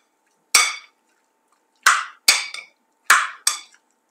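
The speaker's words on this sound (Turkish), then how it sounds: "Bütün sebzelerimi güzelce karıştırıyorum." Five sharp, percussive hits as chopped vegetables are mixed in a bowl, arriving singly and in pairs with brief decays, close and clear against near silence.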